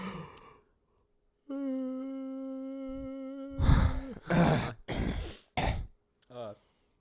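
A person yawns with a long drawn-out voiced tone, followed by heavy breathy exhales and a throat-clearing groan, close and alone.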